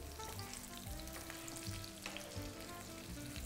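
Small chicken escalope pieces fry in a pan with a continuous close sizzle, while steady tonal background music plays underneath.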